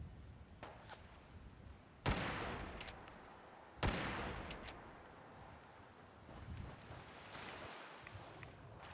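Gunfire aimed at the player in Fallout 4, with two sharp distant shots a couple of seconds apart that echo and ring out over a steady windy, wave-like ambient wash.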